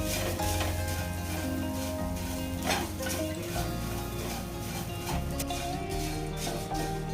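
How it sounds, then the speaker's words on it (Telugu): Puffed rice is stirred and fried in a pan with coriander, giving a continuous close sizzle with scraping and rustling from the stirring and occasional clinks against the pan. "తర్వాత బొరుగులండి మురమురాలు వేసుకోవాలి. వేసుకొని అంతా బాగా కలుపుకోవాలి."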